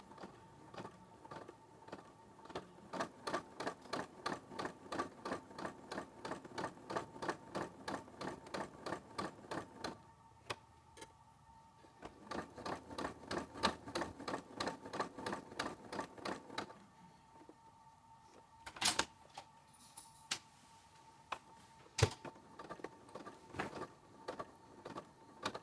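A sewing machine runs a second row of gathering stitches on a vintage-style ruffle, a fast steady mechanical rattle in long bursts with short pauses and a few isolated clicks toward the end.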